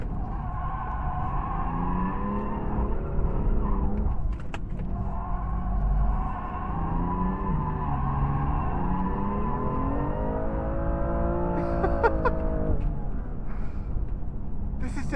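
A car engine drones steadily with shifting pitch as it drifts around the track at a Sydney Motorsport Park drift night, while someone talks over it throughout.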